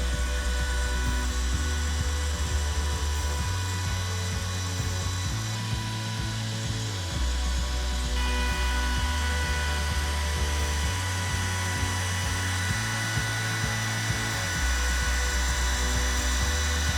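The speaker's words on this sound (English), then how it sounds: "Start by making shallow cuts to eventually router through your jig." Wood router carving shallow passes through a wooden router jig, a steady motor whine broken by rhythmic shifts in load as the bit moves along the cut, close and continuous with no voices.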